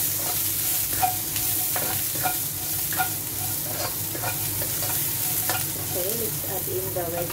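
Red onions sizzle and fry in a pan for a simple seafood pancit canton with shrimp, as steady frying hiss runs throughout and stirring scrapes come at regular intervals.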